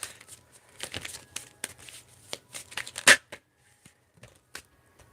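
Tarot cards being shuffled by hand nearby, with bursts of crisp riffling and flicking at an irregular pace, one louder snap near the middle, then trailing off into sparse soft taps.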